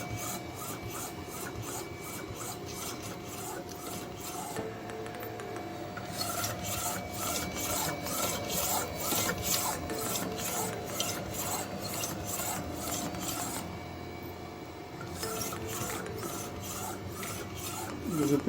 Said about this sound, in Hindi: ये प्रिंटिंग चल रहा है,